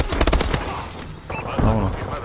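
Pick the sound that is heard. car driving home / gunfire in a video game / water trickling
gunfire in a video game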